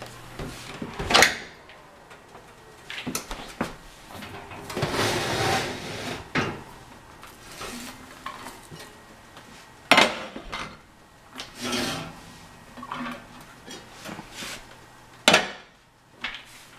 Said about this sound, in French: J'ouvre le four et je mets les pains dans les cocottes.